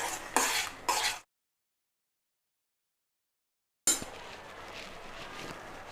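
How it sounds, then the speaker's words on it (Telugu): Close scraping and stirring of a spoon through panipuri filling as chaat masala and garam masala are mixed in, a brief clatter, then a long silent gap before quieter stirring resumes against a low background. "Chaat masala 1/2 tea spoon, garam masala 1/2 tea spoon వేసుకొని బాగా కలుపుకోవాలి."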